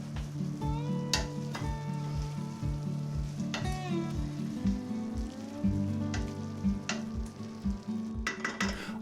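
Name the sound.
mince and vegetables cooking in a pan on low heat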